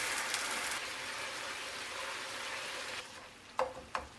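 King oyster mushrooms in gochujang sauce, thinned with water, sizzle and bubble in a pan over low heat. A steady, fairly close hiss fades after a few seconds, followed by two brief utensil clicks.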